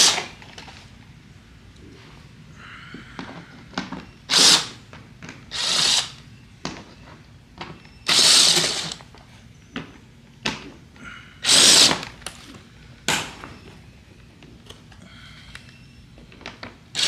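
A power tool buzzes in short, loud bursts, about five separate whirs with quiet gaps between them, as it removes 10mm bolts from the lower front deflector of a Mitsubishi Lancer Evolution X.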